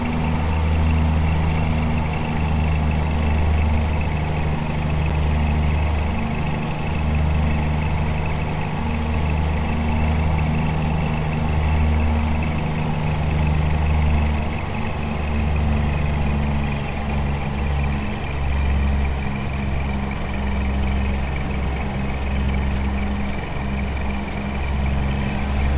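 A Scania P320 rigid bitruck in Euro Truck Simulator 2, with a modded engine sound and carrying a 16-tonne load, runs with a continuous deep diesel drone. The low rumble stays steady and close throughout, with slight shifts in pitch.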